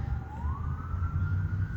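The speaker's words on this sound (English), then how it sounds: "There's a siren going on." An emergency vehicle siren sounds outdoors, a single rising and steady wail over a low rumble of traffic, moderately distant and continuous with no talking.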